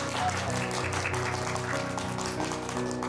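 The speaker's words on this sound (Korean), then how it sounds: "우리 박수로 환영합시다" A church congregation claps together in welcome during a Sunday worship service, with dense, steady applause filling the whole moment.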